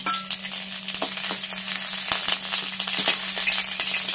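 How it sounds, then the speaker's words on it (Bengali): Hot oil sizzles and splatters steadily after cauliflower florets have been deep-fried until red, with scattered sharp pops over a constant hiss, close and fairly loud with no talking. "যা তেল ছিটালো, বাবারে বাবা, এখনো তেল চলছে কি করে।"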